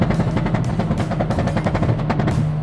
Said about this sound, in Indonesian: pop and bang-nya keras banget